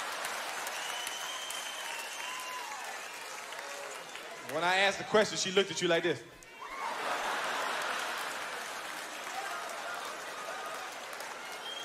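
A comedy show audience claps and roars with laughter in long stretches, broken midway by someone speaking briefly, then applause swells again and carries on to the end.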